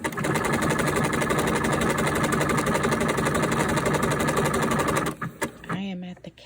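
An old sewing machine stitches in a fast, even mechanical clatter for about five seconds, then stops abruptly, followed by brief handling sounds and a short vocal sound.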